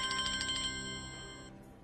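A mobile phone ringtone trills in quick repeated pulses, then holds a steadier electronic tone that fades out, fairly faint in a quiet room with no talking.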